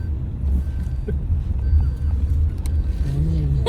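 A family car rolls along with everyone seated inside, a steady low engine and road rumble close and fairly loud throughout, with faint talk in the cabin.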